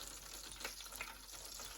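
Spinach flash frying in very hot oil gives a steady, dense sizzle with crackling pops that flare now and then, close and constant from start to finish.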